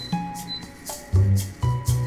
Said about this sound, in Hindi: आपको बीप सुनाई दे रही होगी